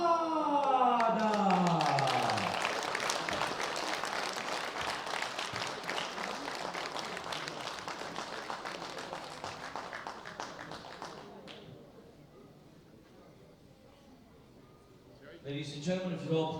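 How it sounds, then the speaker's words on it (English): Audience at the 2016 World Bench Press Championships applauds a junior gold medal winner, loud sustained clapping that gradually thins and fades, with an announcer's voice over the start and a burst of talk near the end. "A big round of applause."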